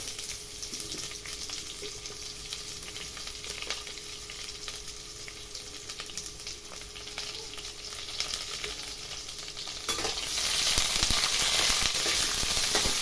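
Onions frying in a pan with whole spices (cumin, cardamom, cloves, dried chillies, bay leaves) make a steady close sizzle, growing louder and brighter near the end as the onions go in.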